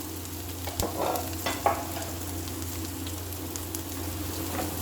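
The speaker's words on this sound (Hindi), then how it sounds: "इसको मैं अच्छे तरीके से मिक्स करूँगी" Mixed vegetables frying with salt, dried coriander and cumin in a pan, stirred steadily with a few scraping knocks over a continuous close sizzle.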